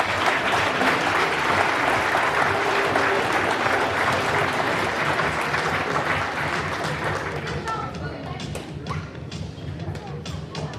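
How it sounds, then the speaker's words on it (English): A large audience at a high school football awards day ceremony claps in a sustained, dense round of applause that gradually thins toward the end into scattered individual claps. "So round of applause to our 2024 year."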